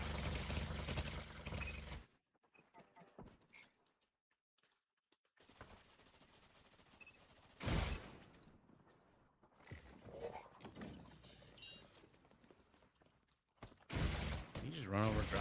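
An automated turret in the video game The Division 2 fires in short, loud machine-gun bursts, separated by quieter stretches of scattered game noise.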